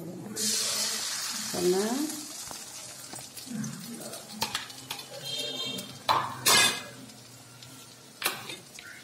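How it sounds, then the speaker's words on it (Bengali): Shiuli leaves fry in a pan with a bright sizzle that fades, mixed with clattering utensils and pan scrapes while a person talks. "ভেজে দিয়েছি ছখানা"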